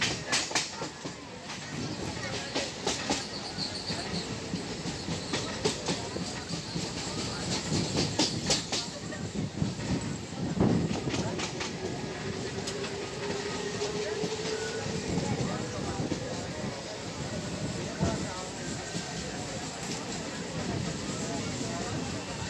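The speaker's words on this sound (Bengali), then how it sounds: "আর তার মধ্য দিয়ে ছুটে চলেছে দুরন্ত গতিতে ট্রেন।" A Tarakeswar–Goghat local train speeds through green paddy fields, its steady roar and rhythmic clatter of wheels filling the whole stretch, with sharp rail clicks and a long rising whine midway.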